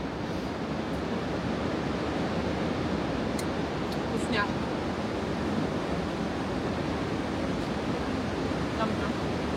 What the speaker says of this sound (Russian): там ветер бушует